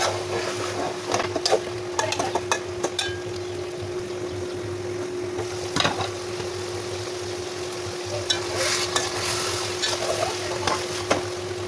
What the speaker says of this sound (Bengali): এবার একটু সামান্য করে নাড়াচাড়া করে বেগুনটা একটু ভুনা ভুনা করে ফেলবো।